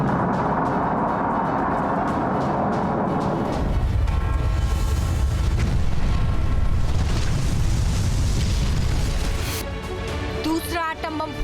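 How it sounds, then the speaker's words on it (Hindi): A huge, roaring atom bomb explosion sound effect: steady low rumble gives way midway to a louder, deeper blast roar that churns for several seconds, then trails off with crackling debris. "पहला एटम बम फूटेगा"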